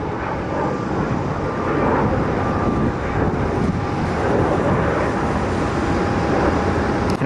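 An American Airlines Airbus A321 airliner pushing back at the gate, a steady loud engine roar and whine filling the whole stretch, with wind buffeting the microphone and faint traffic noise.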